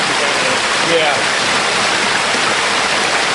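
Blauthaler Waterfall rushes in a loud, continuous broadband roar that fills the air close by, with no talk audible over the water.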